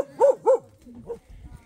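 A dog gives two sharp, loud barks close by in quick succession, followed by a softer, shorter yelp, while someone greets it on a visit to a house.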